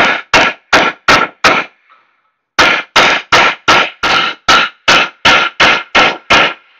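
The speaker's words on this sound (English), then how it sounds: "So get yourself a chisel or something that you can fit in there" Hammer blows drive a chisel into a rusty Jeep Patriot/Compass steering knuckle to spread it off the ball joint, loud sharp metallic strikes in a steady rhythm, four, a brief pause, then about eleven more, close up with no talk.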